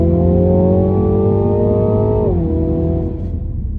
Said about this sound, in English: As I'm accelerating and decelerating rapidly here